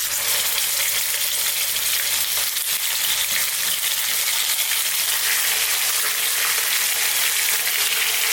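Chunky pieces of lamb on the bone fry in hot oil for a karahi curry, giving a steady, loud, dense sizzle that holds evenly from start to finish with no voices.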